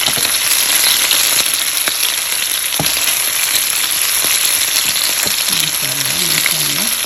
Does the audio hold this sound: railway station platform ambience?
no